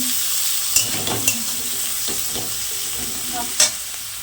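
Ginger-garlic paste frying in a pan while paneer biryani is cooked, giving a low steady sizzle with a few sharp clinks and scrapes from stirring.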